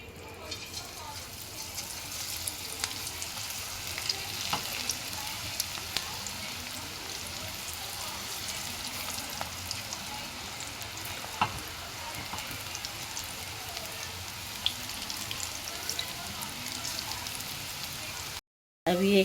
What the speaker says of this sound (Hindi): अभी एक साइड से हमारे पकोड़े फ्राई हो गए हैं